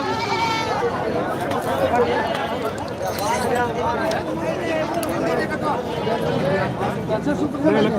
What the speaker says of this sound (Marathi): या साईडला संपूर्ण मित्रांनो बकरी आहेत मोठ्या अंबाचे बकऱ्या आहेत